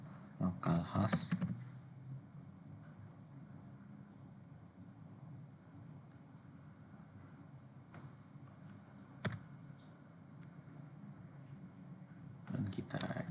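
Quiet clicks of a computer keyboard as a command is typed into a terminal, a few soft keystrokes spaced out over a low background hum, with a couple of louder bursts near the start and end.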